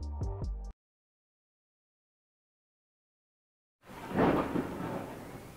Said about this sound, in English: pause for the thunder